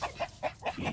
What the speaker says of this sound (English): Chickens are in here just...